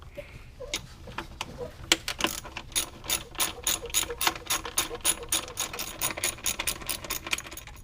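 A ratchet wrench undoing 10mm throttle body bolts on an engine: rapid, close metallic clicking in quick bursts that grows steady and continuous, loud and alone.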